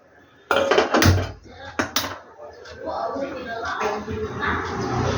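A metal bowl is taken out and set on a gas stove in a home kitchen, giving a burst of loud clanks and clatters early on, followed by softer handling noises and faint voices in the background.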